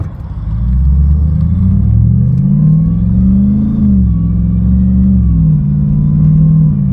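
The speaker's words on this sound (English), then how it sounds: "So I'm going to start driving." A Jeep fitted with a long-range auxiliary fuel tank drives along, its engine running with a steady close rumble that rises and falls gently as it accelerates, with no talking.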